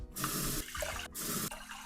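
Water runs from a tap into a bowl in two bursts separated by a brief pause, about 1.2 cups, a close, splashy gurgling with no talking.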